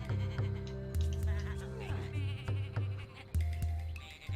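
Sheep in the video game Tak and the Power of Juju bleat in short repeated calls close by, mixed with buzzing game sounds and soft background tones.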